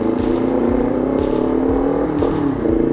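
A Kawasaki Ninja 400 motorcycle engine hums steadily and revs, its pitch rising and falling a few times, close and continuous with no talking.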